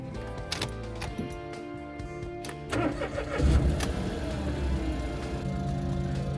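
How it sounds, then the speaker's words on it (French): A Renault Twingo 3 with a camshaft sensor fault has its engine cranked in a start attempt: a close, loud whirring crank that catches into a running engine note partway through and keeps going without speech. "On va tenter un démarrage."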